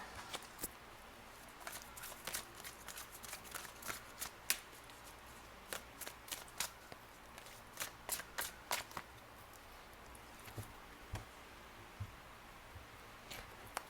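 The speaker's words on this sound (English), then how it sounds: "These cards are really big to shuffle." Quiet, irregular riffling and slapping of large tarot cards being shuffled, soft crisp bursts in clusters, close and alone without talk.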